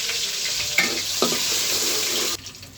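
Onions and whole spices such as cardamom hit hot oil in a pot on a stove, giving a loud, steady hiss with a couple of sharp clatters before it cuts off abruptly near the end.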